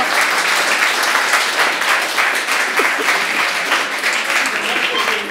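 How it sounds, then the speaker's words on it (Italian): Sustained applause from a crowd, dense steady clapping filling the whole stretch at an even, loud level without pause. "posso chiedere un applauso per la kebabbara?"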